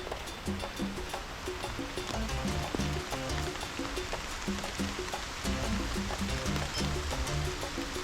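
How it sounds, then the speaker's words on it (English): Heavy rain falls in a dense Ghanaian forest: a steady, full hiss of downpour with a constant patter on leaves, moderately loud and without voices. "I see the weather just changed, and it's beginning to rain now."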